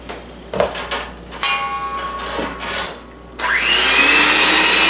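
An electric mixer on low speed mixing thick chocolate dough for ice-cream sandwich cookies, with a few knocks and clatters, then a loud steady whirring motor for the last seconds.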